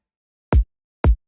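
Two punchy processed kick drum hits for a liquid drum and bass template, each a short deep thump with a quick attack, spaced about half a second apart and heard alone.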